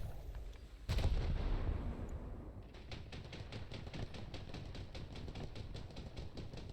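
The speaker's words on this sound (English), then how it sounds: "If I take over the AA and just shoot in one direction, you can see how much I get out here." Anti-aircraft guns fire from a warship in War Thunder. After a heavy boom, a rapid, evenly spaced stream of loud reports rings out continuously over a dense low rumble.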